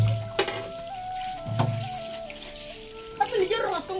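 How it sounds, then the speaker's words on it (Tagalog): Water is poured into a cooking pot to be boiled again, splashing and trickling softly under people talking nearby, with a brief burst of louder pouring near the end. "Lalagyan ulit pala nila ng tubig."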